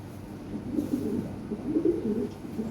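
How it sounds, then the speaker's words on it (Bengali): Fancy Lahori pigeons coo in low, soft, throaty rolls, repeated in a steady murmuring rhythm close by, with no talking. "এই সমস্ত কবুতর ভাই সবার কাছে নাই হ্যাঁ দেখার মতো কবুতর"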